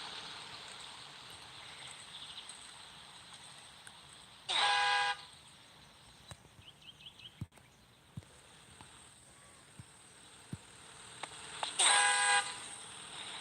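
Car horns honk in a video game map, two long, loud blasts several seconds apart over a steady low hum, with scattered faint clicks between them.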